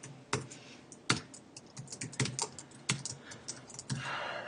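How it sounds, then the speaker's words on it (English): Typing on a computer keyboard: a quick, irregular run of sharp close key clicks and taps, some louder strokes among lighter ones, in an otherwise quiet room with no speech. "I can just start deleting this or start typing"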